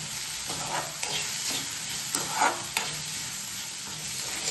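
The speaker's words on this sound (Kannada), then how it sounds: "ಸೊ ಉಪ್ಪು ಹಾಕಿದ್ಮೇಲೆ ಒಂದು ಸಲ ಮಿಕ್ಸ್ ಕೊಡೋಣ." Salted okra stir-fry for a simple palya being stirred in a pan, with a steady low sizzle of frying under soft repeated scraping and stirring strokes, close and continuous with no talk.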